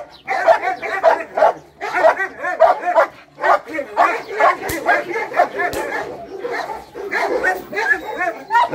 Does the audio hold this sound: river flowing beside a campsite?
no